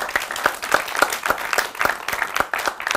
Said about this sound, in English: let's clap for Mr. Lai.